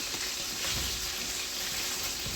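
Garlic-crusted lamb chops fry in a cast iron skillet, giving a steady close sizzle and crackle of hot fat that runs alone without pause.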